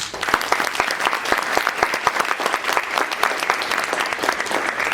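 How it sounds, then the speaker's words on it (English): An audience at a graduation ceremony claps for soon-to-be graduates, a loud, dense and continuous round of applause with crisp individual claps standing out, close and sustained from start to finish. "So let's give a round of applause for these soon-to-be graduates."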